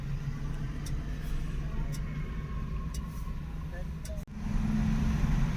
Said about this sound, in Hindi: बहुत लंबा जाम लगा हुआ है